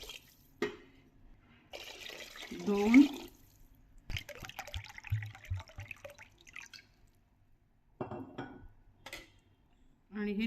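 Water pours into a cooking pot for millet khichdi, measured at three times the millet, in a short burst mid-clip among kitchen clatter, with someone talking before and after.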